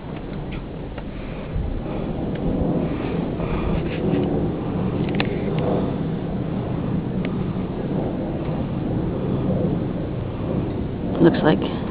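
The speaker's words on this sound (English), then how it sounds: "Sounds like it's starting to rain again." Rain begins to fall on a Paris street at night, a steady broadband hiss with a low rumbling undertone that stays moderately loud throughout, with faint background voices.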